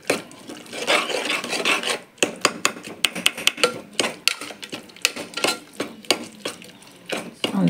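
A spoon scrapes and stirs spices, pepper, cumin, biryani masala, coriander and turmeric powder frying in oil in a pan, making close, steady rasping and sizzling with repeated sharp scrapes against the metal.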